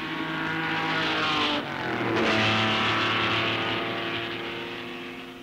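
Racing engines, including a Ferrari, at the 1963 Sebring 12 Hours endurance race, heard as a sustained loud engine drone whose pitch dips and rises as the car passes, with a short spoken phrase at one point.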